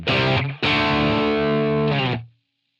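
A heavily distorted electric guitar chord through a Line 6 Helix processor rings out, briefly stops, then sustains loudly for over a second before cutting off into silence.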